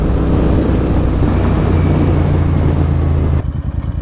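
A Royal Enfield cruiser motorcycle idling in neutral during a test ride, its loud, steady low engine thrum running close up before cutting away abruptly near the end, leaving quieter low rumble.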